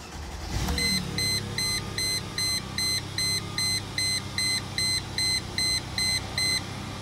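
A Mercedes ML320 engine, freshly fitted with new spark plugs, cranks and catches, then idles with a low steady rumble while a bright electronic chime beeps in a regular rhythm.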